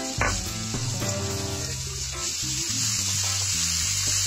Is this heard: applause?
no